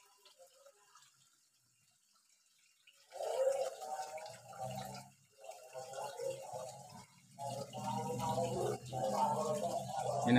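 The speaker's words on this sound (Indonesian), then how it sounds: "Aliran sungai yang satunya" Water trickles and gurgles through a homemade indoor stream built from scattered materials and stones, starting after a quiet opening and flowing in uneven splashing bursts nearby.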